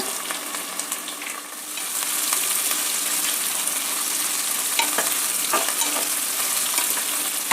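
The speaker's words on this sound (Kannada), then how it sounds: "ಕುಟ್ಟಿಟ್ಕೊಂಡಿರೋ ಕಾಳು ಮೆಣಸು ಮತ್ತು ಒಂದು ಟೀ ಸ್ಪೂನಷ್ಟು ಜೀರಿಗೆ ಇದನ್ನು ಒಗ್ಗರಣೆಯಲ್ಲಿ ಸೇರಿಸೋಣ" Crushed black pepper and a teaspoon of cumin sizzle steadily in hot tempering oil with onions, a continuous close frying hiss that grows louder after the first couple of seconds, with faint stirring clicks.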